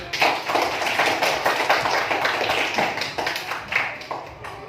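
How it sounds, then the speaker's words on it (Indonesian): Students in a classroom clap together for several seconds, a dense patter of hand claps with uneven bursts, fairly close and moderately loud, with no talking over it. "Tepuk tangan."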